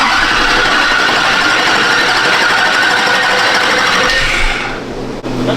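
A Duramax diesel engine runs steadily just after starting, a loud, dense mechanical clatter and hum that holds even for several seconds before dropping away near the end.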